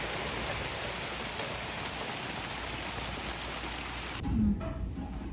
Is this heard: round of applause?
no